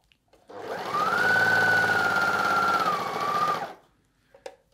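A Juki MO-104DN/MO-114DN overlocker sewing a rolled hem runs in one steady, loud whirring burst of about three seconds. It starts and stops cleanly, followed by a few faint clicks and handling noises.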